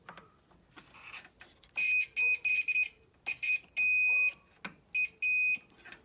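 High-pitched electronic beeps from a multimeter on continuity test while probing the earth wiring of a British Leyland Austin Allegro, sounding in repeated short and longer bursts close by amid light handling noise.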